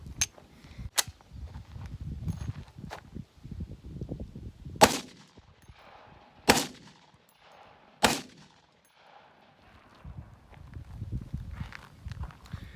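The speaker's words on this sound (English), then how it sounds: "So when I have that 4 shots, the second one doesn't like to chamber." Model 81 rifle firing and cycling, with four sharp, loud reports spaced a couple of seconds apart amid rustling handling and clatter of the action; one round hangs up on chambering.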